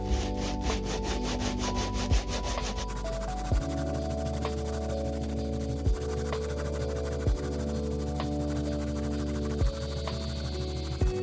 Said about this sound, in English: I get the sandpaper back out and start sanding all the way back down to the wood